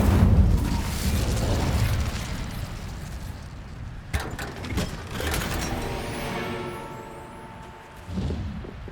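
Fire spell cast in the video game Hogwarts Legacy: a heavy low whoosh and rumble, then a sharp crackling burst with clattering mechanical rattles, fading into a ringing tail and a final soft thump.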